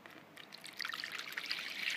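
Water trickles into a plastic bowl as the first step of homemade liquid soap made from used cooking oil, a soft, steady stream that grows a little louder toward the end.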